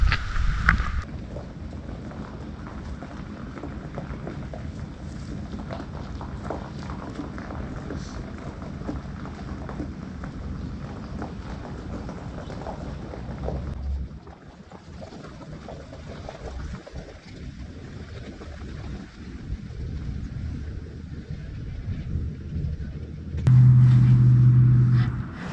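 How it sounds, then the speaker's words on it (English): Steady wind and rain roar across an exposed building site where a metal garage roof is going on, a dense continuous wash of noise with gusty buffeting, loud throughout and briefly easing midway; no thunder stands out. "Boy, this rain and wind is crazy."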